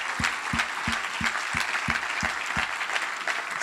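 Lukewarm applause from a church congregation, a moderate spread of scattered clapping with one set of hands beating out a steady, evenly spaced rhythm close by.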